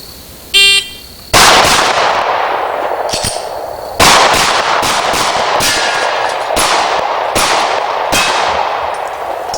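A rapid string of loud, sharp gunshots from a high-capacity semi-automatic pistol during a timed shooting drill, about a dozen cracks fired in quick bursts with brief pauses between, including a malfunction.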